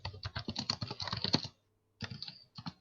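Computer keyboard typing during an online tabletop game session, rapid close clicking for about a second and a half, a brief pause, then more bursts of keystrokes, with no talk.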